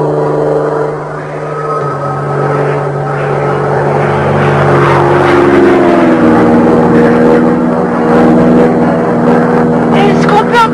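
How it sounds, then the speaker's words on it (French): A propeller airplane drones overhead, a loud steady engine hum with a shifting pitch, while people talk over it. "C'est pas un avion. Si, ça en a tout l'air. C'est quoi comme avion?"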